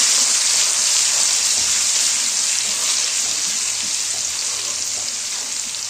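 Garlic frying in heated mustard oil, a loud, dense, even hiss of sizzling that holds steady for several seconds with no talking.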